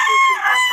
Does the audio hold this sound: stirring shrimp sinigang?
no